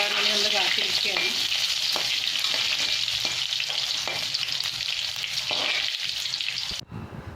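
Curry leaves and green chillies frying in hot oil for a Kerala jackfruit-seed masala, a loud steady sizzle and crackle with occasional pops and stirring scrapes, cutting off abruptly near the end; no talking.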